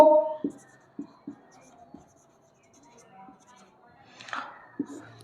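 Pen or chalk scratching out a maths equation during a Bengali ratio and proportion lesson, a few short strokes spaced across the clip with a brief burst near the end, under quiet talk.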